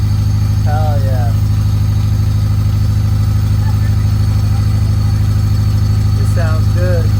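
A Honda Civic EF hatchback engine with no exhaust idles steadily and loudly with a deep, rough rumble, and brief voices come in near the start and end.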